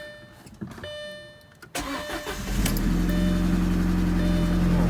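A rebuilt 2.0 turbo engine in an Audi A4 Quattro wagon fires for the first time: a brief starter crank, then the engine catches and settles into a loud, steady idle close by, with no talking.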